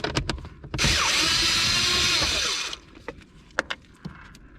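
Bolts come out of a 2000-2005 Buick LeSabre blower motor: a loud power-tool whir runs for about two seconds, framed by sharp metallic clicks and clanks before and after.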